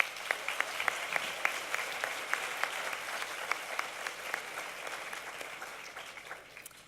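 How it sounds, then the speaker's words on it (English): An audience at the Women in Leadership Awards at the Kravis Center applauds the honored women, with distinct claps standing out in a steady wash that slowly fades. "Please join me again in giving these women a round of applause."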